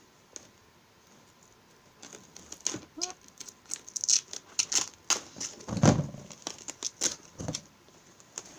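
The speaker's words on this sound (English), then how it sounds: "I overlap my tape a little bit right there" Duct tape is pulled and pressed down with overlapping strips, giving a run of crinkly rips, taps and sticky crackles in close, irregular bursts.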